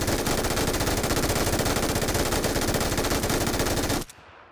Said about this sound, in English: You're gonna be looking at 100 to 200 meter spray downs with this gun